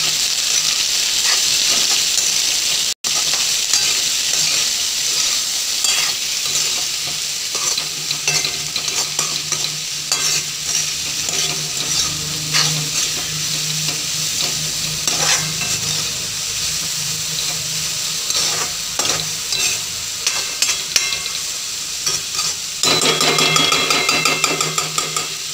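A spiced mixture with turmeric and salt is stirred in a hot pan, a continuous loud sizzle running throughout with scraping spatula strokes and occasional clanks against the metal, no voices.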